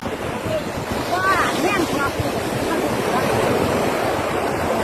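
Sea waves wash steadily onto a beach at Koh Samet, a continuous close, loud surge mixed with wind buffeting the microphone, with brief voices faintly audible over the surf.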